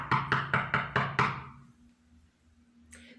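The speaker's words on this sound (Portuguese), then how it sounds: "Pedro continuava batendo na porta" Six firm knocks on a wooden door in a quick, even sequence, close and loud, then the knocking stops and only a faint low hum remains, with a short rustle at the very end.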